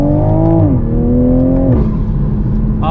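A 2021 Toyota Supra revs on a canyon drive, its engine note holding steady, then dropping in pitch in two stepped falls, loud and close from inside the cabin.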